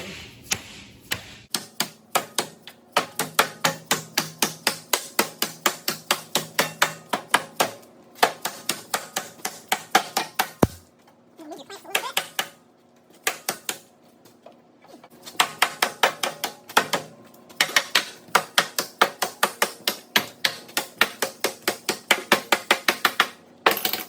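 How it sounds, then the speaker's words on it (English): A big dead blow hammer strikes a Willys Jeep CJ3 metal floor in rapid, evenly spaced blows repeating in steady bursts, each hit sharp and close, with brief pauses between runs. "I like to just get a big dead blow hammer"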